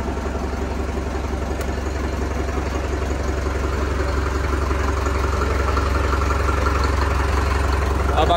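A freshly repaired Sonalika tractor engine idles with a steady, loud low-pitched diesel throb at close range, unbroken throughout with no voices.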